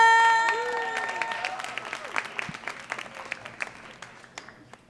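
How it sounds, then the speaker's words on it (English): Audience clapping at a poetry reading, a dense wash of applause that fades into scattered individual claps, heard under a ringing musical tone and a host's voice at the start. "Keep those hands clapping and keep that energy high for our first poet to the mic, Timothy Gager!"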